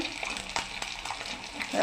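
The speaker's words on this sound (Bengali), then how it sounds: "ডিমটা তো ডিমটাও ভাজা হয়ে গেছে" An egg rubbed with salt and turmeric fries in oil in a pan, giving a close, steady sizzle with small crackling pops.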